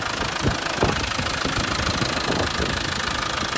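A Land Rover Defender 90 pickup with a 300TDi diesel engine and a deleted EGR valve idles close by, a steady dense rumble with a regular knocking pulse.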